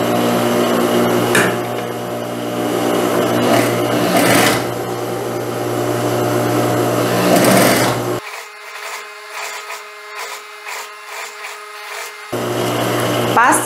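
A sewing machine stitches a blouse seam in a loud, steady mechanical whir with rhythmic needle clatter. It stops abruptly for several seconds and then resumes.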